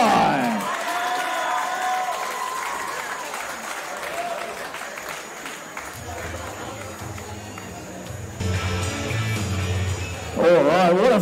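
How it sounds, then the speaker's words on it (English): At a Croatian club boxing bout, a crowd applauds and cheers in a steady roar of clapping, swelling again near the end, under an announcer's amplified voice. "Give them a round of applause"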